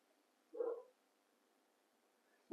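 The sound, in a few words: small dog barking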